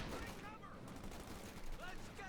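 Rifle squad gunfire in a Company of Heroes 2 battle, with faint, distant bursts of shots under continuous background battle noise.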